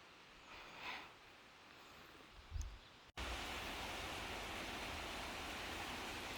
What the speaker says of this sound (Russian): там бежит ручей. Слышите,